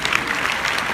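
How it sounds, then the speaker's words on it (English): An audience gives a loud, dense round of applause at a real estate conference event in Orlando, a continuous close wash of clapping with no gaps. "Can we give him like a big round of applause for new baby?"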